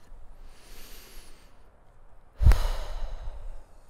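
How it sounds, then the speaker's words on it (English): A single slow, soft inhale followed by a sharper, louder exhaling sigh up close, with a quiet breathy background and no talk. "Take a deep breath"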